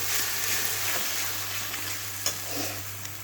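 Onion, garlic and chili paste spices frying together in a pan, a dense, steady close-up sizzle with soft stirring scrapes and a faint low hum underneath.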